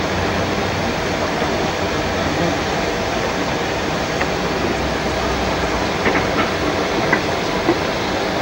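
Steam locomotive Bellerophon pulling out of Haworth station, a steady broadband rumble and hiss with faint clanking, heard from close by at a constant level.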